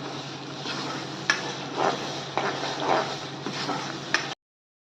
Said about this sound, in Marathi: चांगला मसाला फ्राय होऊ द्यायचा आहे